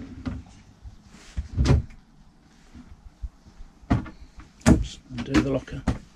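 A cutlery drawer in a Bailey Unicorn Cadiz caravan slides open and shut with a few knocks and rattles close by, interspersed with brief bumps; no talking.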